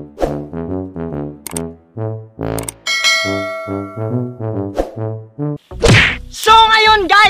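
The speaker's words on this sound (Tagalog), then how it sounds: "don't forget to click the notification bell" A notification bell sound effect plays amid a rapid series of percussive bell-like dings and knocks in a bouncy rhythm, bright and loud, ending in brief sharp chimes and squeaks.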